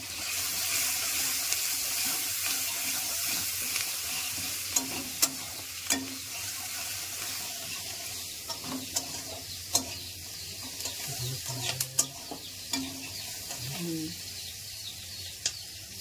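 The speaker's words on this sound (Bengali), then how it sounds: "এবার আমি নুনটা দিয়েও একটু হালকা হাতে নেড়ে দেব" Sliced onions fry with salt in a pan, a soft continuous sizzle broken by scattered scrapes and knocks of a spatula stirring them.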